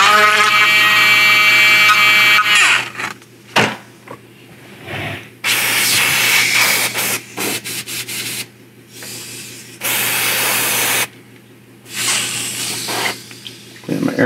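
Airbrush spraying paint onto a 1/6 scale vinyl model kit, heard in several loud hissing bursts of a few seconds each, separated by short pauses, with a steady low hum underneath.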